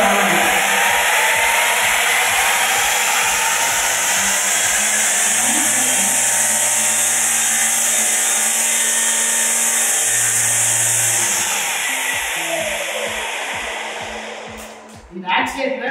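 A battery-operated multipurpose electric brush cutter with a BLDC motor whirs at a high, steady pitch for several seconds with a faint pulsing beneath. It then winds down and cuts out near the end.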